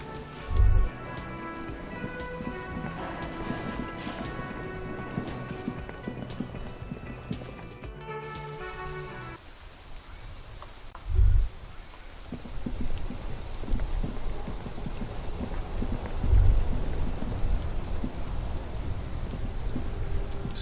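Steady rain falls in the game Disco Elysium, a continuous wash of patter joined by a few deep low thumps and some music early on, with no voices.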